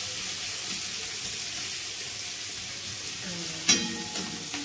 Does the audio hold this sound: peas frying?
yes